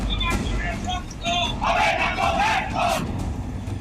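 A crowd of BJP supporters and TMC party workers, facing off in West Bengal, shouts and yells together in a loud, continuous clamour of overlapping voices.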